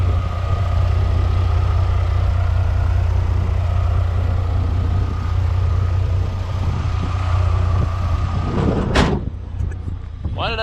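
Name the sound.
cheap 4x4 truck engine idling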